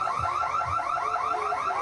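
Car alarm on a city street outside a fries shop, a steady electronic warble cycling in fast repeating sweeps, moderately loud and unbroken with no voices over it.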